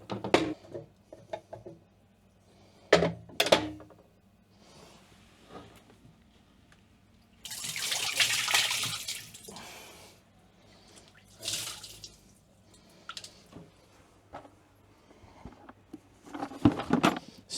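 Water splashes and drips while a boat's blocked sea strainer is cleaned, faint and close, with scattered patters and knocks and a short stretch of running water midway, no voices.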